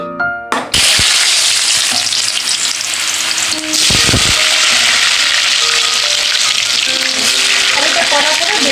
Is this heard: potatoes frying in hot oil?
yes